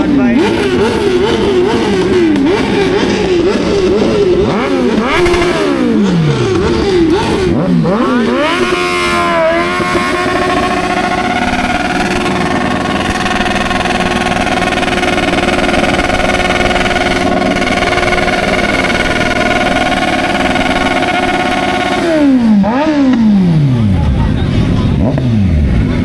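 Motorcycles and cars at an outdoor meet rev their engines continuously and loudly, with rising and falling revs and sustained high-rpm drones, while people talk in the background throughout.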